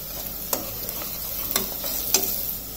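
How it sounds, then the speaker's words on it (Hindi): Onions with a pinch of salt sauté over a slow-to-medium flame for aloo gobhi masala, a soft steady sizzle with a few distinct scraping stirs, close and without talk. "प्याज भुनने का वेट करते हैं और स्लो टू मीडियम फ्लेम पर ही हमें इसे भूनना है।"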